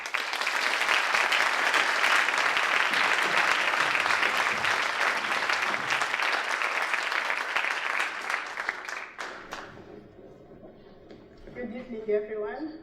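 A conference audience applauds steadily to welcome someone speaker who witnessed the Rwandan genocide, the clapping dense and sustained before thinning out near the end as she begins to speak.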